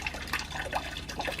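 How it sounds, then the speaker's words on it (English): Water from a pump-driven custom waterfall inside a reptile enclosure splashes and trickles steadily at close range, a continuous gentle wash with no voices. "Custom waterfall there."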